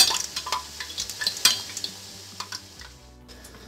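Poori frying in hot oil with a spoon or ladle clinking against the pan, producing bright bursts of sizzle and several sharp metallic knocks close by, with no talk.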